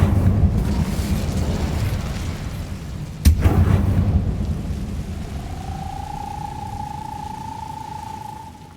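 An Incendio fire spell erupts in a Hogwarts video game: a low roaring rumble builds to a sharp booming burst, then settles into a softer crackling roar with a thin, rising magical tone near the end.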